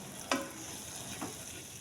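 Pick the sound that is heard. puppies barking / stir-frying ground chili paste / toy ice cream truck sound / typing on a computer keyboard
stir-frying ground chili paste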